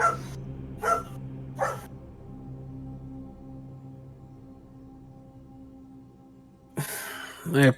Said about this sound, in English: I apologize if you guys hear my dog.